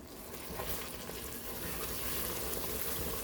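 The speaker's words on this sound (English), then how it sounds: "Can you hear that noise?" Caramel with vanilla extract sizzles in a hot pan just pulled off the burner, a dense, steady crackling hiss that holds loud and even for a few seconds with no voices over it.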